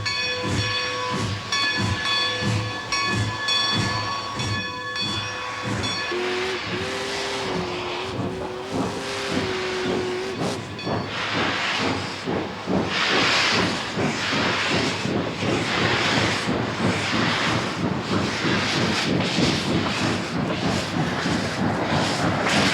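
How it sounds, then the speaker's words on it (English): Steam locomotive sounding several sharp whistle blasts, then heavy rhythmic chuffing and hissing steam as it pulls out of a tunnel and clears its stacks, loud and close with no talk. "with 3 sharp reports on the whistle, the train came out of the hole as the engineer cleared the stacks"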